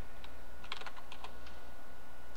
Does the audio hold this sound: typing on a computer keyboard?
yes